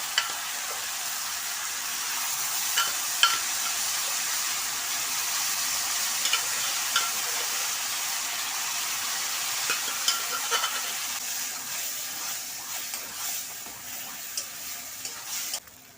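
Moong dal fries in a pan with a steady close sizzle and frequent stirring clinks and scrapes, continuous throughout with no talking.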